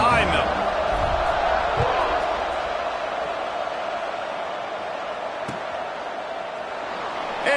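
Football stadium crowd roaring at kickoff in a college game against UCF, a loud sustained wash of cheering that holds steady throughout, with a sharp thud midway.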